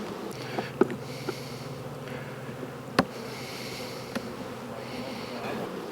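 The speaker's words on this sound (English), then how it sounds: "You got bees in the top box too." Honey bees buzz softly in the top box of a hive during a late winter check, a faint steady drone broken by a few sharp knocks and handling clicks.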